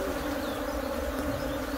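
Honey bees buzz in a dense, steady drone at an opened hive during canola splitting, a close continuous hum with no breaks or voices.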